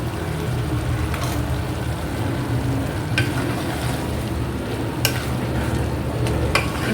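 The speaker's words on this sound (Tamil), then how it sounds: "இது நல்லா மிக்ஸ் பண்ணி விட்டுக்கலாம்." Chili powder and garam masala being stirred into a mutton curry, a steady close scraping and stirring over a constant frying sizzle, with a few sharp clicks of the spoon against the pot.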